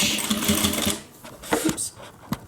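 A sewing machine stitches along the edge of a homemade airliner cabin bag, a fast close rattling run for about a second before it stops, followed by a few soft clicks and handling sounds.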